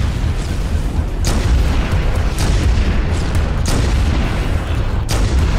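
Booming rocket launcher blasts from Halo: Combat Evolved Anniversary on PC, a handful of loud, sharp explosions spaced a second or two apart over constant low rumbling battle noise.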